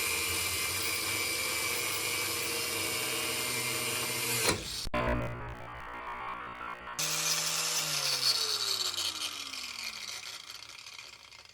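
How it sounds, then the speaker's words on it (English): An abrasive cut-off wheel slicing through a rear seat bolt under a Jeep Cherokee, a steady high grinding whine that cuts out, then spins back up and winds down, close, with no talk. "this outer rear seat bolt is gonna have to get sliced off at the bottom"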